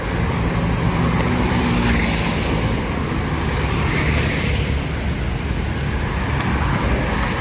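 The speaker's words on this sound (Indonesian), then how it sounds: "Lalu lintas kendaraan pribadi padat." Dense private car traffic flows along a busy road in Jogja near a bus ticket counter, a steady, continuous roadway rumble with passing engines and no let-up throughout.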